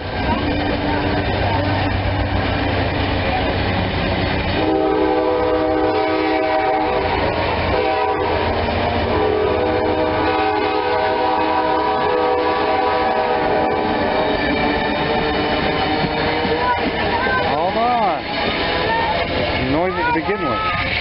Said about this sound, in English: Yes, that was the train.